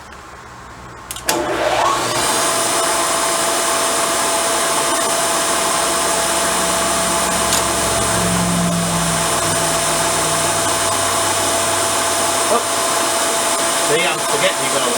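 A drill bores holes in a part for a 1959 BSA C15T motorcycle, its motor starting after about a second and then running as a steady, close, continuous whine to the end.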